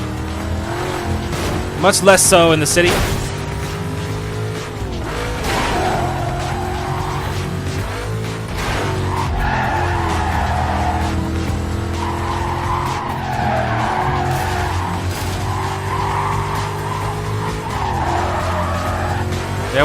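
Race car in the Need For Speed Carbon video game revving hard with repeated tire squeals and skids, engine pitch climbing and dropping throughout while someone talks over the action.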